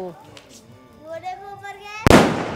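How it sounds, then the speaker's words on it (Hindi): A Diwali firecracker lit with a matchstick goes off with one loud, sharp, close bang near the end, after a stretch of talking voices and a rising whistle-like tone. "मचिस की तुड़ी चास की और पटाखे के वास्ते लगा दी"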